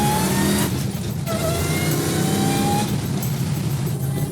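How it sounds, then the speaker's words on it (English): Supercharged 1971 Dodge Challenger R/T tribute accelerating hard through first and second gear, a loud, close engine roar that briefly dips at the shift and then climbs again, with supercharger whine riding over it and no talk. "First gear, second, there's the supercharger kicking in"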